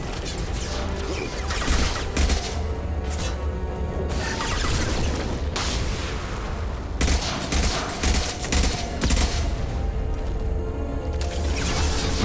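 Rifle fire in Mass Effect 2 Remastered, with loud, sharp shots crackling in quick volleys separated by brief pauses, heavy booms layered under the rattling bursts.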